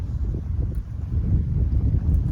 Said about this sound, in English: you see the wind's blowing pretty good right now